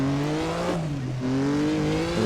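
Historic F1 race car engine in a racing game holding a steady loud drone, with a brief dip in revs before climbing again, alone without voices.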